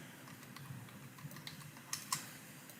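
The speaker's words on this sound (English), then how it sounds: "Type in PubMed." Soft, faint typing on a computer keyboard enters a short search word over steady background hiss, ending with a couple of sharper key taps. No one talks.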